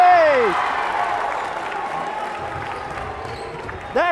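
Crowd roaring and cheering in a gym at a varsity girls' basketball game after a big play, a loud sustained wash of voices that slowly fades, with a whistle-like tone at the start and end.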